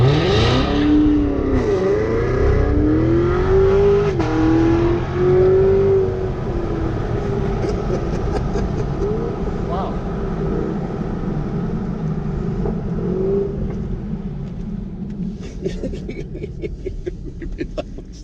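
A Porsche 718 Cayman GTS pulls hard under full acceleration in Mexico, its engine note loud and close, climbing in pitch through the gears with brief dips at each shift before fading slightly toward the end.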